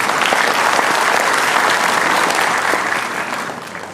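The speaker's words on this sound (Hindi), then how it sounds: "देवी और सज्जनों, पुनः एक बार जोरदार तालियां बजाएं।" Hall audience at a Cancer Survivors Day ceremony breaking into loud, dense applause, steady for several seconds before tapering slightly toward the end.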